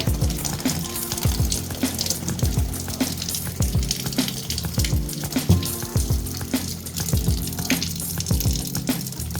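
Water runs through a newly installed Midea water filter dispenser, a continuous close rushing flow with gurgling and splashing that stays steady and alone for the whole stretch.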